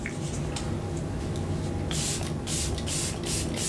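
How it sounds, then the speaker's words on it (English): Makeup setting spray misted onto a face, several short hissing spritzes in quick succession, close and fairly quiet over a steady background hiss. "Now I'm gonna go ahead and spray and melt all these powders together."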